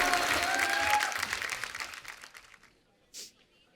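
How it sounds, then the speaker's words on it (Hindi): Studio audience applause on The Kapil Sharma Show, a TV comedy program, honoring Hrithik Roshan and Vaani Kapoor: loud, dense clapping that fades away over about two seconds into near silence, with a brief soft sound near the end. "एक बार फिर से जोरदार तालियां ऋतिक रोशन और वानी कपूर के लिए"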